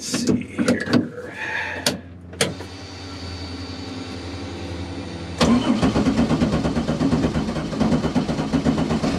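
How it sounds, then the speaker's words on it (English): A Pontiac Fiero engine cranks in the cold with several sharp starter bursts, then catches and settles into a steady, loud idle rumble. "I guess I should get the car started here and warm up"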